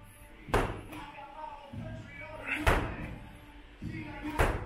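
A medicine ball slams onto a gym floor during a workout, making three heavy, evenly spaced thuds while a coach talks in between.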